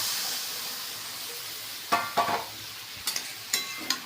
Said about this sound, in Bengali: অল্প করে জল দিচ্ছি, কষা কষা করে একটু।